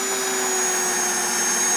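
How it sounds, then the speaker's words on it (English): A corded Bauer drill drives a cabinet screw, giving a steady, close, continuous motor whine throughout. "See if the drill can do it now that it's cooled down a little."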